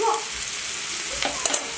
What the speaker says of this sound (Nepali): च्याउ भुट्छ